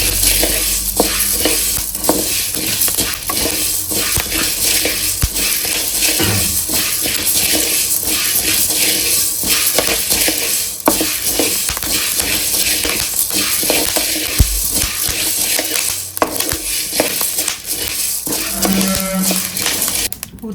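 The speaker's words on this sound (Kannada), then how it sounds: "ನೋಡಿ, ಮೆಣಸು ಹಾಕಿದ್ಮೇಲೆ ಪಟ ಪಟ ಅಂತ ಇದೆ, ಅಲ್ಲಿ ತನಕ ಇಟ್ಕೋಬೇಕು" Pepper and spices dry-roasting in a pan for homemade rasam powder, a loud busy mix of crackling, rattling grains and scraping stirs that carries on without a pause.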